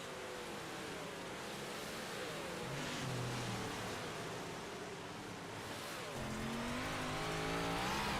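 358 modified stock cars race around a dirt oval, engines roaring in a dense, continuous wash of noise heard from on board one car, with the pitch shifting as the car accelerates and lifts.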